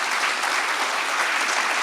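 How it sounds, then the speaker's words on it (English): Steady, dense applause from an audience at a panel event, a continuous even roar of many clapping hands, close and fairly loud with no talking over it. "I'd love to have a round of applause before I open the floor."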